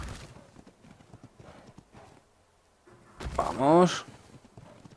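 In the video game Ark Ragnarok, a horse's hooves clip-clop steadily at a gallop, then a loud whinny breaks out. Someone speaks over the hoofbeats.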